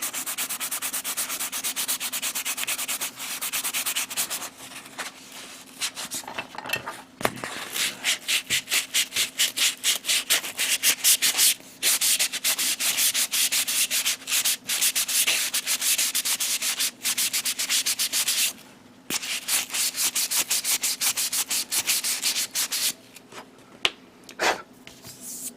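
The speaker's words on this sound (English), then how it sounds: "And now I'm going to use a 400 grit" Close, steady scratchy rubbing of 400 grit sandpaper sanding a Bandai Macross plastic model part, with rapid back-and-forth strokes continuing throughout and a few brief pauses.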